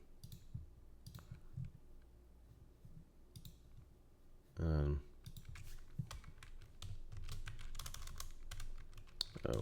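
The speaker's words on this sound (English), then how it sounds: "Type in your password." A password being typed on a computer keyboard, with a run of close, light key clicks in an irregular rhythm and a brief louder bump partway through, over a low room hum.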